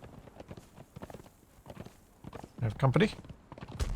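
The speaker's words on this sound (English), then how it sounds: "Now we have to find a good spot to park our horses." Horse hooves clip-clop in the Conan Exiles video game, a few uneven footfalls close by under ongoing conversation between players.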